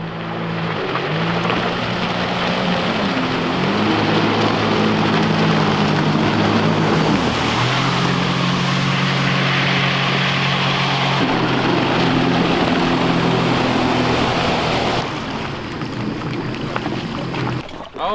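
A loud, steady jet boat engine drones on a clear-water river in Alaskan winter with a rushing wash, its pitch shifting slightly as it runs, then the roar eases near the end.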